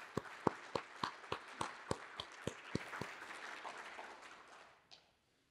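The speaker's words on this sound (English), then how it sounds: "so let's give him a round of applause" A small conference audience gives a faint, distant round of applause, a thin run of separate claps that tapers off and stops abruptly near the end.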